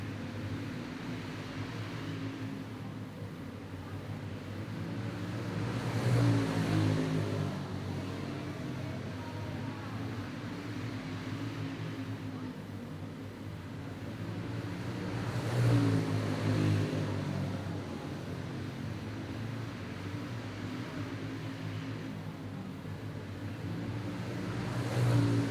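Racing karts circle a track during a Turkey Chase heat race for adult super heavyweights, engines droning steadily at mid distance with two louder passes as karts go by, and no talk over it.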